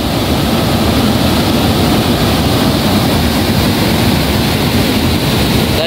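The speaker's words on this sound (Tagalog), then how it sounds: "Ganyan kalakas yung baha dito mga kuha." Strong floodwater rushing in a steady, loud, roaring wash that fills the whole space without a break, broad and noisy with no voices.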